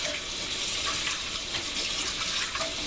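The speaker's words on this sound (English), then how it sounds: "I am heating up water, which I will pour through the filter" Hot water pours through a coffee filter, a steady close trickling and splashing hiss running continuously without pause.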